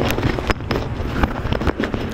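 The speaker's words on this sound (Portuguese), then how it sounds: "essa explosão." A loud explosion in a film shown during a church service, heard as a rumbling, noisy blast with several sharp bursts over about two seconds.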